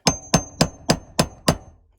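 Six sharp hammer strikes land in a steady, even rhythm, close and loud, with a faint metallic ring between blows, while prying out a bathroom vent fan.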